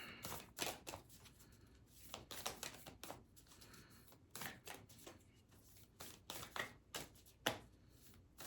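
Tarot card deck being shuffled, a quiet series of irregular papery riffles and slaps repeating for several seconds, close by and without talk.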